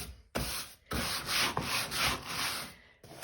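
A black stain in a bathtub is scrubbed down in repeated rough rubbing strokes, steady rhythmic bursts of abrasive scraping with short pauses between, close and moderately loud, without speech.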